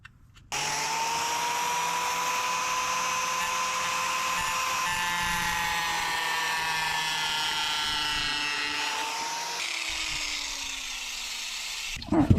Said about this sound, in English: We need to drill out a little spot for this wire.